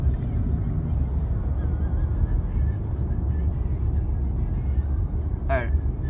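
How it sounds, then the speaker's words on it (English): Steady traffic on a highway out of Tampa, with a continuous low road roar of many cars rolling past, close and fairly loud, and a voice talking over it. "there's a ton of cars like leaving Tampa or Orlando"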